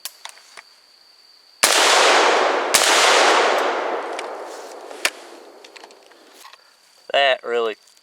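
A 149 grain 7.62x51mm NATO rifle round fires at a concrete block: one loud, sharp crack followed by a long rumbling decay, a second impact crack, then scattered debris ticks. A short burst of voices comes near the end.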